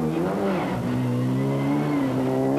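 Renault rally car engine at the 1995 Rallye Boucles de Spa revs hard, pitch dipping and climbing again as it accelerates, loud and close with no talk over it.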